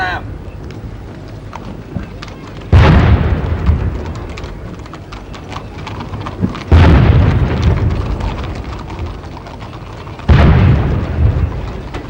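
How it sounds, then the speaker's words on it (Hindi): Three heavy ceremonial cannon blasts, evenly spaced and each with a long rolling decay, fired in salute during the 1988 Republic Day parade on Rajpath, with a voice faintly present in between. "गर्जना करती ये तोपें भारतीय गणतंत्र का जय घोष कर रही हैं।"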